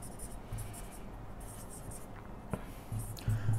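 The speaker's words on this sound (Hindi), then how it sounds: "तो यहां पे लिखेंगे हम कॉमन" Marker or chalk scratches across a board during a Class 6 maths lesson on factors, a faint, steady scraping with brief taps toward the end and no talk.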